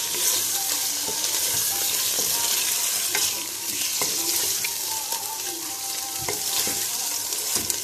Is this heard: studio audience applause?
no